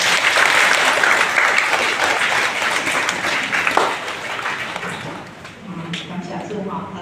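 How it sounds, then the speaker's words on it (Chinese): A church congregation at a Taiwanese-language Presbyterian Sunday service in Lukang applauds steadily for several seconds, a dense wash of clapping that thins toward the end while a few voices murmur beneath it. "咱来拍手好不好？"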